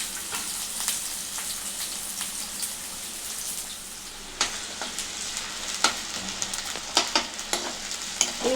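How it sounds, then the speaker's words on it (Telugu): Green chillies and chopped onions fry in a pan for a spinach egg curry, giving a continuous bright sizzle with frequent crackles and spoon scrapes that grow busier toward the end, with no talking. "ఈ పచ్చిమిర్చి, ఉల్లిగడ్డ మంచిగా దూరగా వేగాలి."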